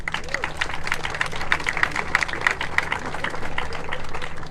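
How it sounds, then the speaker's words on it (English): Outdoor crowd applause at a campus unity walk hosted by university student-athletes, an even, sustained patter of many hands clapping at moderate volume for a few seconds, with no voices audible over it. "Let's give them another round of applause."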